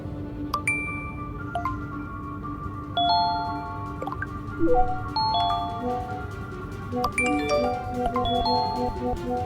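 A rapid string of bright chiming tones and pings, overlapping one after another like a flood of phone alerts over a low background hum.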